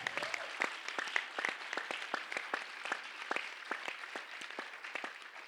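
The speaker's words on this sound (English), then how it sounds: "Please, big round of applause." An audience at a yoga festival lecture at Parmarth Niketan applauds Reverend Michael Beckwith: dense, steady clapping from many hands, fairly close, sustained for several seconds with no voices over it.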